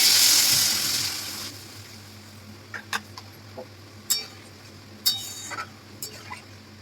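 Water poured into a pan of cooking potatoes with sauce, a loud hissing rush at first that fades, followed by scattered metallic spoon clinks and stirring against the pan.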